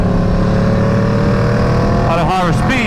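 An Aprilia RSV4 motorcycle fitted with a 520 chain and sprocket cruises at highway speed near 7,000 RPM. Its engine makes a loud, steady, close drone under rushing wind, with the pitch wavering briefly near the end.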